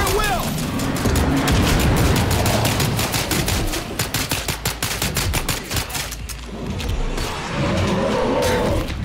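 Dense video game gunfire in State of Decay 2, a sustained rattle of rapid shots with loud booming bursts, continuing for several seconds with engine-like rumble and a voice talking underneath.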